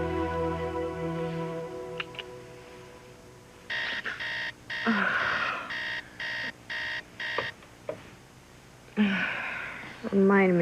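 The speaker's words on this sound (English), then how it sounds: "Remind me to get a new alarm clock." A bedside alarm clock rings in loud, regular bursts of electronic beeping in a bedroom, cutting in after a quiet stretch of soft background music and ringing on in evenly spaced pulses.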